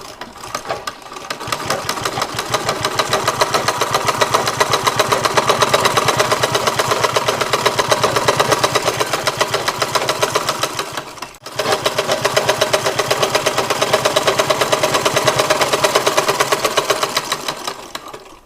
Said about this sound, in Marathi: हे टिप सरळ मारून घ्यायची आपल्याला व्यवस्थित.